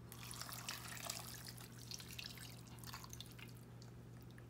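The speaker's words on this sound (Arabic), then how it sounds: "غادي ندير الماء،" Water pours steadily into a cooking pot over oil and chopped onion while preparing Moroccan mrozia, a continuous close trickle and splash with a low hum beneath.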